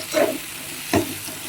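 Ginger and garlic sautéing fast in a pan with salt, two short sizzling bursts of stirring over a low background hiss.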